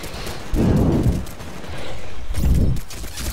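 Rapid automatic gunfire in Titanfall Attrition multiplayer arrives in two loud bursts, the first longer, the second shorter, separated by a quieter stretch of battle ambience.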